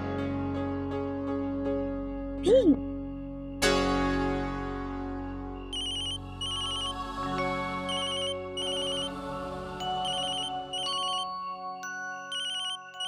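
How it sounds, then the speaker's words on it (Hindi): An electronic phone ringtone plays a bright, repeating melodic pattern, preceded by a couple of brief knocks, in an otherwise quiet room. "तो नैतिक जी का फोन है"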